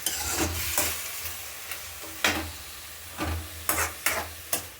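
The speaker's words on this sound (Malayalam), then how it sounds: "കടു വറുത്തിട്ട് അമരക്ക സവോള എല്ലാം മിക്സത്തോടെ" Mustard seeds crackle and sizzle in hot oil, punctuated by several sharp stirring scrapes against the pan at irregular intervals.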